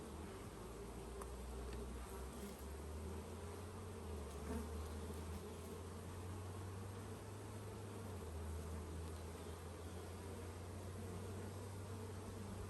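Honey bees hum in a dense, steady drone at the hive entrance as foragers bring in pollen, a close, unbroken swarm buzz with no voices.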